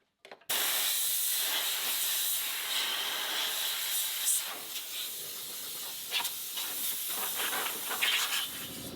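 Compressed air blasts steadily through the radiator of a John Deere 2038R compact tractor, a loud continuous hiss starting abruptly and holding with slight fluctuations for about eight seconds.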